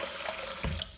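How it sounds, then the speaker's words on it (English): Tap water running into a sink while aquarium decorations are rinsed, a steady close splashing rush with a brief heavier splash near the end. "Sink is easier than the shower for this. And just rinse every decoration and set it out to dry."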